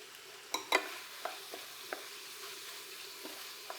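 Spices and red pepper flakes being stirred into a brie cheese taco dip, a few soft scrapes and clicks of a utensil against the bowl, quiet and close with a faint background hiss.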